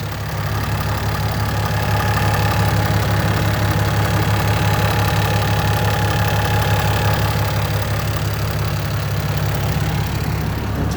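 A 2016 Ram 2500 with a 6.7-litre turbo diesel and an aftermarket tuner idles steadily up close, a deep, even rumble with a knocking diesel clatter that holds unbroken for the whole stretch.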